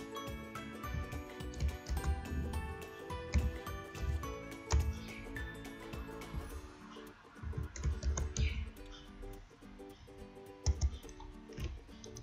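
Computer keyboard keys tapped in irregular bursts of quick clicks with short pauses, close and quiet, while CAD software is in use.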